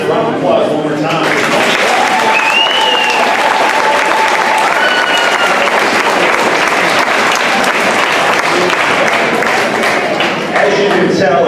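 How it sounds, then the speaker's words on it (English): Audience applause for the children after a school district performance, a loud, dense wash of clapping that holds steady for the whole stretch, with cheers and a few voices rising through it. "Let's give our kids a round of applause one more time."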